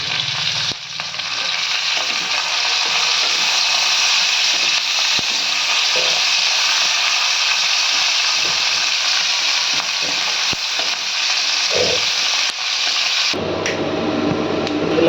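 Coriander, curry leaves and a little tamarind sauté in a pan for a veldt grape chutney, giving a loud, steady, dense sizzle with a few scraping stir clicks, then a brief shift near the end.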